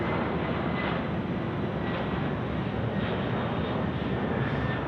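Engines of an Atlas cargo plane spool up as it begins its takeoff roll at night at Sydney Airport, a steady, broad, loud roar heard from a distance with no talk.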